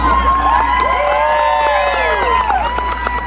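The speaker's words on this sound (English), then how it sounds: "We got an applause." A crowd at an arts event costume contest cheers loudly, with rising and falling whoops and shouts from many voices over light clapping, close and sustained throughout.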